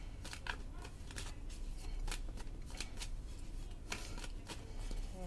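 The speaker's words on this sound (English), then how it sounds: "just want to make sure I shuffle it well. Just shuffle it thoroughly." A deck of tarot cards is shuffled repeatedly and close up, soft riffling and slapping strokes in quick irregular bursts over quiet room tone.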